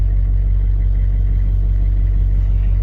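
A Land Rover Discovery converted to diesel, heard while driving: a loud steady low engine rumble heard from inside, constant throughout with no variation.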